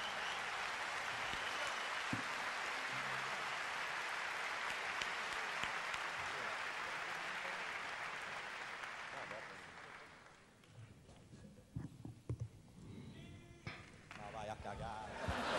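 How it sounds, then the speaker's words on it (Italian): Dense crowd applause from an outdoor concert audience at Parco Sempione, Milan, loud and sustained for about ten seconds, then fading as a voice speaks over scattered claps and noise. "Un applauso più forte"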